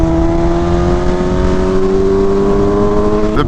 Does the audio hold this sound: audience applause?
no